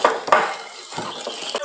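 A utensil scrapes and clinks against a bowl while mixing a whipped egg-white cream for a Brazilian quindim, a few short irregular clatters close up with no talking.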